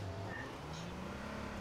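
A car driving in a video game gives a quiet, steady engine drone with a faint rising tone, low under the game's background sound and heard only briefly.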